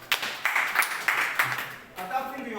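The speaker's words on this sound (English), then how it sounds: "Clap for him." A classroom group claps for a student during a lesson on magnets, about half a dozen sharp claps in an uneven rhythm, followed by a teacher's voice.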